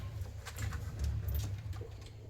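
Pigeons in a pigeon house with nesting coops, some sitting on eggs, make low, muffled cooing that murmurs steadily with faint rustles and light taps.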